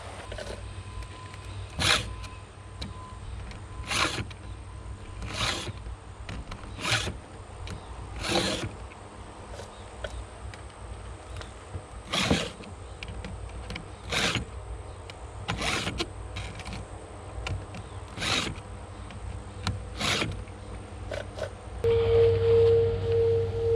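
Stihl 2 in 1 sharpener being filed along a chainsaw chain on an 18-inch bar, a series of separate rasping strokes every second or two with short pauses between them, close and moderately loud, no talking.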